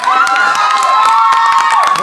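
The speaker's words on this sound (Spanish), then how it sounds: "Un aplauso para ellos." A crowd at the Handicap de las Américas horse race claps and cheers loudly, with sustained whoops and shouts over continuous applause.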